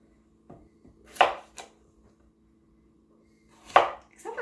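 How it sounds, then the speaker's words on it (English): A knife chops vegetables for beef stew on a board in a few separate, crisp knocks with pauses between them, close and clear against a quiet kitchen hum. "I always like the chopping part"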